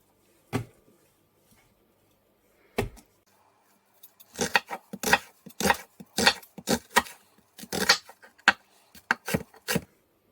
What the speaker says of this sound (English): We will start with slicing and dicing a medium onion